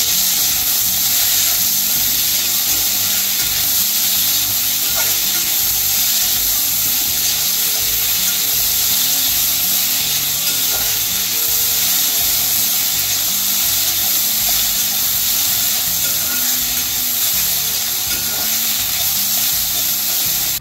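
Broad beans sauté in hot oil in a kadhai, giving a steady, dense sizzle and crackle that runs unbroken at close range, with no voices over it.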